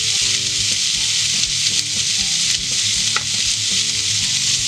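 Food fries in a pan with curry, turmeric and a few drops of sriracha, giving off a steady, close sizzle with faint stirring scrapes and no voices.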